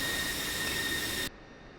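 A jet aircraft taxiing in the flight simulator DCS World gives a steady, loud turbine whine and roar with a high tonal hum, cutting off abruptly to a quieter hiss.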